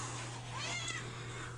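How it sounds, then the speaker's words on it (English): A house cat meows once, a drawn-out rising and falling call close by in a quiet room, under a steady low hum. "Kitty's meowing at me."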